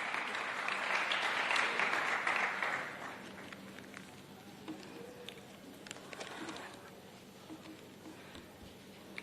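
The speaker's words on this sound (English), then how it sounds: "Let's clap for the head teacher, please" A crowd claps loudly for a few seconds at a primary school event, then the applause fades to scattered claps and quiet room noise.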